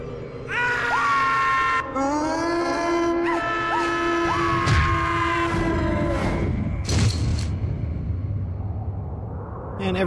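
A zombie in the TimeSplitters 2 Siberia level lets out long, wailing, strained screams and groans, loud and close, with dull thuds and game noise around them.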